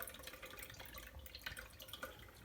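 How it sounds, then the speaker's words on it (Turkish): Water trickles and drips steadily through a strainer as artemia brine shrimp are drained. The sound is a faint, continuous splashy patter with no voices. "Şimdi normal artemyalarımı süzüyorum arkadaşlar."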